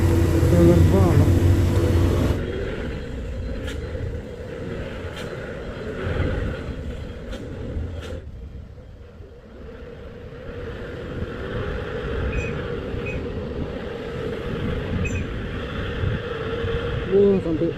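A racing tractor-trailer truck labors up the steep Bukit Kodok hill, its engine droning loud and steady with heavy low rumble throughout, swelling near the end, while voices talk over it early on.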